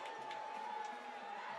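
A GW home crowd roars steadily at a high school football game against Spring Valley, a dense, sustained wash of cheering with no breaks.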